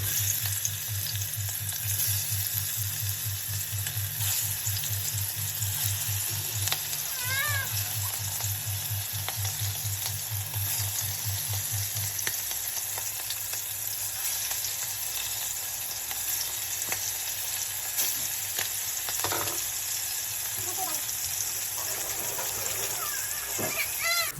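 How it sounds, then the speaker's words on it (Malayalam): Steady oil sizzling and crackling throughout, with a low hum in the background and a few faint clinks near the end. "ഇതാ നമ്മൾ മീനൊക്കെ പൊരിക്കാൻ വേണ്ടി പോവാണ്."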